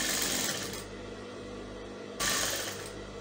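A sewing machine runs steadily while stitching over elastic on a gown, a continuous close mechanical whir with two brief louder bursts and no speech.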